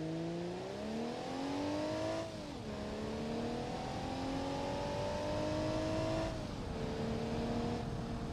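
A car in BeamNG.drive accelerates at full throttle, its engine note climbing steadily, then dropping briefly at two gear shifts before rising again, loud and continuous with no voices.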